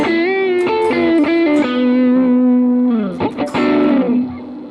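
An electric guitar played through an M-VAVE BlackBox pedal on a crunch solo setting rings out loud, sustained distorted notes with slides and bends, a short choppy break, then one more held, fading note.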